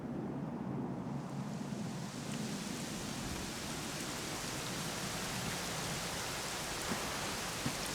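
Steady rain falls in the video game Dragon Quest XI, a broad, even hiss of downpour that holds unchanged throughout, soft and continuous with no voices.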